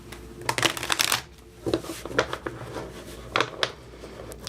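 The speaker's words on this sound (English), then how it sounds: "Let's do one more shuffle." Tarot cards are shuffled by hand in several quick riffling bursts separated by short pauses, close and crisp, with no talking.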